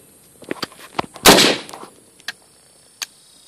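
A handgun fired outdoors, one loud sharp report with a brief rolling tail, surrounded by a few fainter clicks and knocks from handling.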